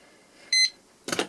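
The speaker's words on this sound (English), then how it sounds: "starting my timer" A kitchen-style timer gives one short, bright electronic beep in a quiet room, followed moments later by a brief rustling clatter.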